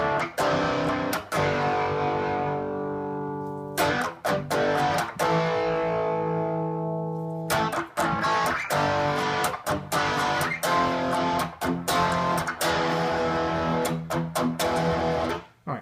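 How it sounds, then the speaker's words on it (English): Distorted electric guitar on the bridge pickup, played without a flanger: loud chords ring out and decay, broken by sharp choppy strums and stops, with no voices. "Alright, so that's what it sounds like without the flanger."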